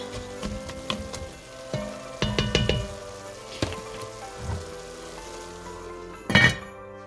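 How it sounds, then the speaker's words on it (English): Ground meat sizzles softly in a pan, broken by clinks and scrapes of a utensil stirring at irregular intervals, with a sharper metallic clatter near the end. "I just kind of occasionally stir it until the meat is brown"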